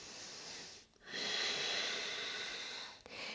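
A deep, slow breath taken during a yoga flow, heard as a long airy inhale and exhale close to the microphone, with a short pause before it and a brief break near the end.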